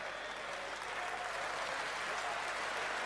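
A snooker audience at a Masters quarter-final claps steadily, a dense, even wash of applause filling the hall throughout with no breaks.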